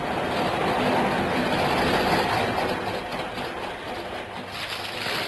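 An old steam train runs on rails with a loud, steady, close rumble and a hissing wash that eases slightly partway through, with no talk over it.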